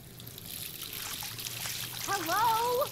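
Soft running water trickling in the Life is Strange video game, a faint steady wash that continues under a spoken voice near the end.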